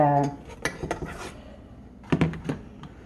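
Metal pot clattering onto a stove while cooking banana pudding, several close clanks and taps spread unevenly, with someone talking briefly at the start.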